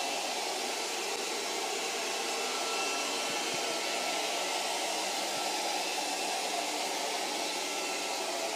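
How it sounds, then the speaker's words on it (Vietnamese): Medion 18500 robot vacuum cleaner running in spiral cleaning mode, giving a steady, unbroken motor and suction whir that holds at an even level for the whole stretch, with no voices. "Medion sẽ hút xung quanh cái khu vực nhiều bụi bẩn và theo cái hình xoắn ốc"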